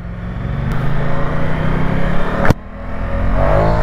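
A Ducati motorcycle engine accelerates with a steady rising drone, broken by two sharp clicks or gear shifts, the second followed by a brief dip before the revving builds again; no talking.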